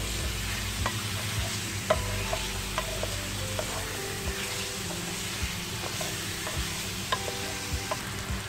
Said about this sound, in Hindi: प्याज को सौते होने तक पकाना है।